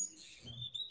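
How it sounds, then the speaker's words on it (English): Birds twitter and chirp noisily in a short, faint burst with a low background rumble, and no one speaks. "they're making such a noise, these birds. Beautiful, but very noisy."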